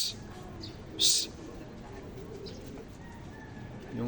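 A domestic racing pigeon coos softly at a loft, a few low murmuring calls with one louder high chirp near the start, set against faint background noise.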